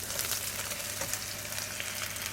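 Shrimp sizzle in a pan with garlic for a bitter gourd sauté, a dense, crackling fry that stays close and steady with no voices.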